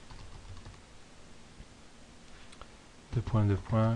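Soft, steady clicking of a computer keyboard as code is typed, faint beneath background hiss for most of the stretch, before a voice speaks loudly near the end.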